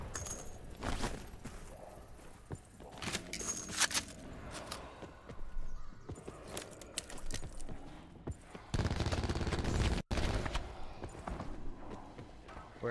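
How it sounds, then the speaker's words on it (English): Gunfire in the Call of Duty Blackout battle royale video game, scattered shots and short automatic bursts at varying distances among footsteps and movement noise, fairly faint overall. "I heard him shooting"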